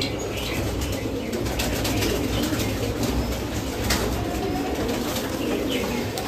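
Kalshira pigeons coo in a steady, dense murmur with occasional wing flaps, fairly close, no talk over it.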